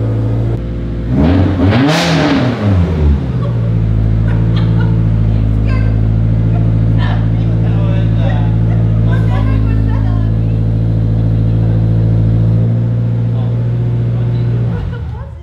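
A Subaru STI hatchback engine idles steadily while warming up, with a loud rev swelling and falling early on before it settles into a constant, close, droning idle.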